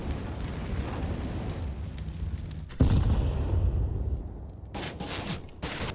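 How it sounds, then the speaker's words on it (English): A grenade blows up in Counter-Strike during a professional esports match on the Train map, sounding as one sharp, loud boom that rolls into a fading rumble amid ongoing game noise, with a few crackling bursts near the end. "That was another nade on Shush."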